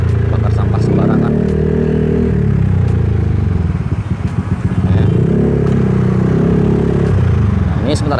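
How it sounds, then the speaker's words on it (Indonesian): A Honda Stylo 160 scooter engine pulls steadily under acceleration, a loud close droning hum with rising and falling revs and some clatter, while a rider talks over it. "akselerasi yang ngisi itu sudah mantep ya. Mesin juga nggak nyiksa, RPM juga nggak tinggi-tinggi banget"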